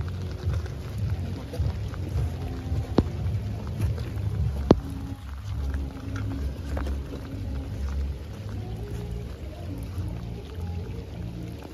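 Steady rain patters and pours during an autumn thunderstorm on the Rhine, with a couple of sharp cracks that fit close thunder or impacts, continuous and fairly loud with no talk.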